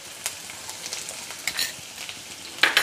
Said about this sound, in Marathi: तेल गरम झाले, आता आपण त्यामध्ये लसूण घालूयात